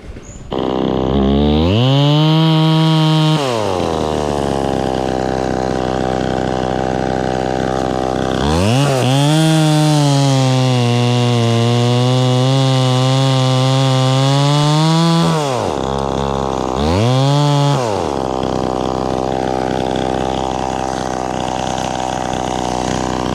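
A chainsaw cutting tall coconut palms runs loud and close. It idles between three strong revs: a short one near the start, a long sustained run in the middle, and another brief rev near the end. It stays steady and alone, with no talking over it.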